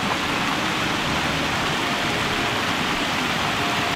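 Steady rain pours down in a forest near Manali on the Lama Dugh trek, a dense, continuous hiss at close range that holds evenly throughout with no voices.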